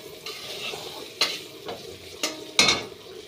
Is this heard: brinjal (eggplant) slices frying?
yes